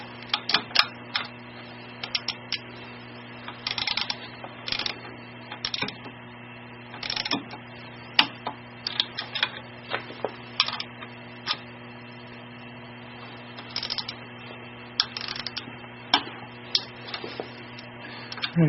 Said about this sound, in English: You can hear a little click the torque wrench makes when it reaches the proper torque